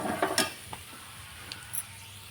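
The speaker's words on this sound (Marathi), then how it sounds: "शेंगाबरोबर असं परतत राहायचं" Drumsticks sauté in a pan with a cumin and mustard seed tempering, giving a soft sizzle under a few brief scraping stirs near the start, then quiet crackles and small clicks, close and faint.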